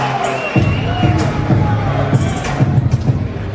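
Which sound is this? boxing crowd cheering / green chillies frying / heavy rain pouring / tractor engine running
boxing crowd cheering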